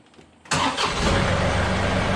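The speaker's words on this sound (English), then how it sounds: "then we're going to start the tractor" A John Deere 2038R compact tractor engine cranks and catches abruptly, then settles into a loud, steady close idle.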